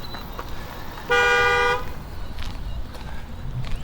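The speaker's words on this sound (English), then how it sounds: "He was honking." A single steady car horn honk, under a second long, cuts through quiet street ambience with faint background noise in a Texas border town in the lower Rio Grande Valley.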